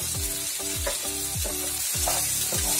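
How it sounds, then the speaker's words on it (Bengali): Cashews, almonds, raisins, paneer and peanuts sizzle steadily in a pan over a medium flame for flattened rice pulao, a continuous frying hiss with repeated stirring scrapes and no talk. "এবার এটাকে এরকম ভাবে 40 সেকেন্ডসের জন্য মিডিয়াম ফ্লেমে ভাজুন।"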